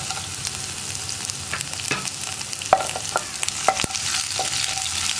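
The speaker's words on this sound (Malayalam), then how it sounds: "ഇഞ്ചി ചേർത്തിട്ട് ഉടനെ തന്നെ ഒരു 3 വറ്റൽമുളകും കൂടി ചേർത്ത് കൊടുക്കുക." Finely chopped ginger and three dried red chillies frying in oil for potato masala, a steady sizzle punctuated by sharp spoon clicks and scraping as the pan is stirred, without speech.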